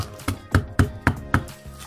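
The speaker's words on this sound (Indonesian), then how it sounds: "Bawang putih kita beri garam sekitar 1 sendok makan, kemudian kita halusin" Garlic cloves pounded with salt in a home kitchen: five firm, evenly spaced thuds about a quarter second apart, close and clear, with no talking.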